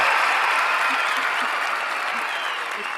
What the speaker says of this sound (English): Give her another great big round of applause